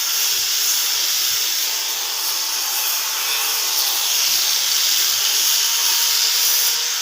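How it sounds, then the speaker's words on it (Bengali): A machine sanding and finishing a teak wood sofa gives off a loud, steady hiss with faint rubbing and knocking underneath, and nobody speaks. "কীভাবে মেশিন মারতেছে, খুব সুন্দর ফিনিশিং হচ্ছে।"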